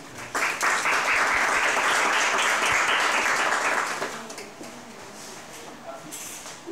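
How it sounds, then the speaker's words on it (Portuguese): An audience at a philosophy café event in Salvador gives a round of applause for the Poesia em Trânsito guests, with loud, dense clapping that holds for about four seconds before thinning to scattered claps. "Uma salva de palmas,"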